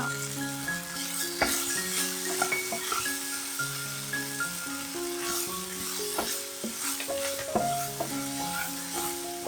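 Stir-frying in a wok after pepper and vegetarian oyster sauce go in, with a steady sizzle and scraping stirs running under continuous melodic background music.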